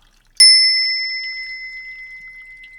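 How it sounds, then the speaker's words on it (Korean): A bell is struck once, ringing out clear and loud, then a pure tone sustains and slowly fades with gentle wavering in an otherwise quiet space. "종소리에 마음을 싣겠습니다"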